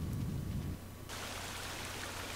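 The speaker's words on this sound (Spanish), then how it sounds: "Está lloviendo" Steady rain hiss in the survival video game The Forest, with a low rumbling patter at first that gives way to brighter, even rainfall noise.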